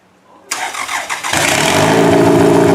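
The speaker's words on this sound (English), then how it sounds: "Fires up, no issue." A Toyota Camry fitted with a swapped-in four-cylinder engine in place of its V6 cranks briefly and catches, then settles into a loud, steady idle close by, with no talking over it.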